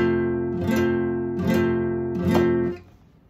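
An F barre chord is strummed on a guitar three times in a steady rhythm, each strum ringing out before the final chord is damped, close and clear with no voice over it.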